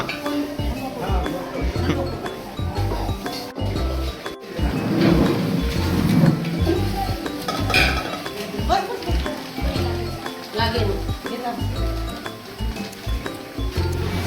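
Masala spices roasting in a pan for a mutton curry, with a steady sizzle and scattered clinks of stirring throughout, fairly close, while people talk over it.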